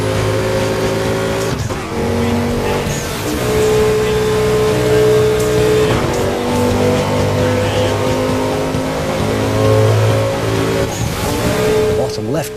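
A car engine in the Burnout Paradise racing game revs loud and steady, with gear changes and a brief tire squeal, the sustained roar filling the whole stretch.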